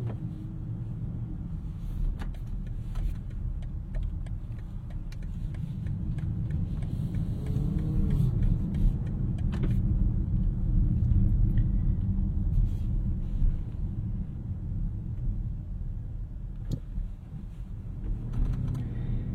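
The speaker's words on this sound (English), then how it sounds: "get this X6 M60i out of the parking lot and out onto the open road" Steady low engine rumble and road noise from a BMW X6 M60i with a 48-volt mild hybrid system, heard from inside as it pulls out of a parking lot onto an open road, swelling gently midway with faint clicks over it.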